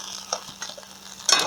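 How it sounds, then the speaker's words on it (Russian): Beef zirvak for plov simmers gently in a kazan, a quiet steady bubbling and soft sizzling with a few small pops and a faint low hum, close up and gaining a brief louder burst at the end. "по истечении 45 минут у нас вот такое кипение в казане"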